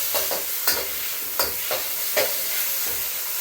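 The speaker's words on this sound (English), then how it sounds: "let's start stir-frying the beef." Steady loud sizzling of beef stir-frying for beef chow fun in a hot wok, broken by a few sharp metallic scrapes and clanks as the meat is tossed, with no talking.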